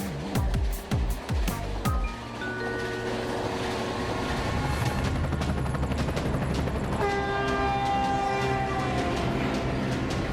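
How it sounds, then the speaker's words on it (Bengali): A cartoon train rolls past with a rumbling run of clatter and sustained horn-like tones, after a few sharp knocks at the start. "ওই যে ট্রেন।"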